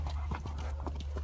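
Hooves clop irregularly on hard ground as Tennessee Walker and quarter horse mares and geldings shuffle and walk nearby in a kill pen in Pitkin, Louisiana, over a steady low hum.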